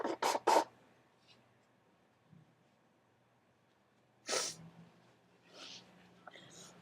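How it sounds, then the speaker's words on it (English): Two or three short, forceful nose blows at the start, then quiet with faint rustling, followed by another sharp blow and a few softer snorts. "while I blow my nose"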